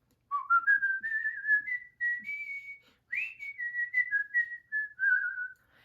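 A person whistles a lilting melody alone, clear and close, in two phrases with a brief pause between them.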